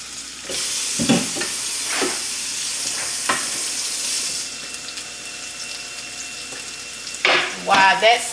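Vegetables sauteing in a pan for a pepper steak meal, a steady close sizzle with occasional stirring scrapes and a louder burst of clatter near the end.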